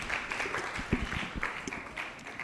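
Audience applause at a talk on preventing and treating visual challenges in children: a moderate, fairly close patter of many hands with scattered sharper claps, steady for a couple of seconds without speech.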